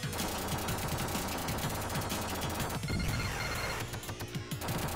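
Dense, rapid gunfire shooting a gate open in the arcade shooter T2 The Arcade Game, a steady mechanical rattle of shots with clanking game effects, continuous and loud throughout.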